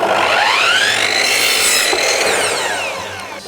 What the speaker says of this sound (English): I'm gonna cut some little spacers here